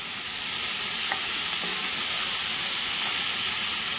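Onions fry in bacon fat in a hot cast iron skillet, a loud, steady sizzle and hiss with a few soft scrapes of a wooden spoon stirring through it.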